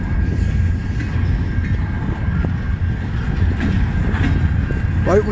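A CN freight train rolls past at close range near Emmett, Michigan, giving a steady, loud rumble with rail clatter and wheel squeal that carries through the whole stretch without a break.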